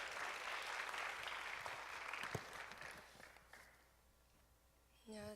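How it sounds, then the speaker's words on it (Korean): Church congregation applauding at a youth worship service, a broad sustained clatter of clapping that fades away over several seconds before a brief new sound at the end. "여러분 큰 격려의 박수 한번 우리"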